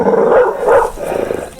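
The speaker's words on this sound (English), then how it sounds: "That was the dog." A dog gives a couple of short barks or yelps in an indoor setting, fairly close and clear, with no talking over it.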